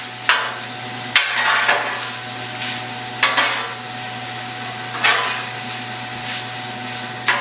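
Sausage, mushrooms, onions, garlic and peppers cook in a pan under a low, steady sizzle. Sharp knocks or scrapes come at intervals of about a second or two, likely a utensil striking the pan as the mixture is turned.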